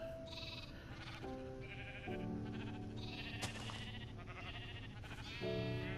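Minecraft sheep bleating repeatedly over steady game background music and ambience, the bleats moderately loud and spaced through the scene, with no talking.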